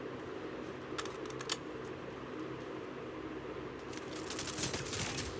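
Automatic weapon fire in the Call of Duty Mobile shooter game, with two clusters of sharp rapid shots, one early and a denser spell near the end, over a steady game background with no talk.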